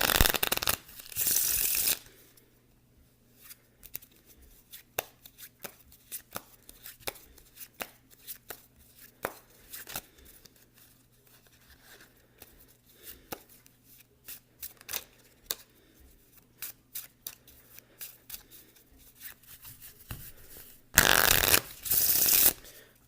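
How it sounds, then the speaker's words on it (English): Cards riffle and snap in repeated short bursts, with soft taps and slides between them; close and fairly quiet, no talking. "I'm gonna make a cut to the deck, shuffle"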